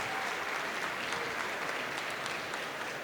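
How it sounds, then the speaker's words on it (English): Steady, broad applause from an audience at a speedcubing world championship, a continuous wash of many hands clapping at moderate volume without pause. "Got some applause in the audience."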